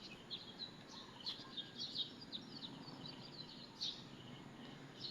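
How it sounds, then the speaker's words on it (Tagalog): Faint, high bird chirps scattered over a steady outdoor background hiss, several brief calls spread out and distant, with no talking. "Ang sarap pakinggan ng huni ng ibon,"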